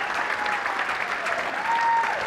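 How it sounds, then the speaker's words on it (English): A theatre audience at a variety show claps in a full, sustained burst of applause that holds steady and swells slightly near the end, with a faint tonal whine running through it. "big round of applause"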